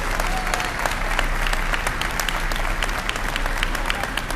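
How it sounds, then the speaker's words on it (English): Audience at an arena topping-out ceremony gives construction workers a big round of applause, dense continuous clapping filling the space, loud and sustained from start to end. "please give them a big round of applause"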